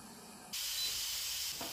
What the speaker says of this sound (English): the steam is coming out from here.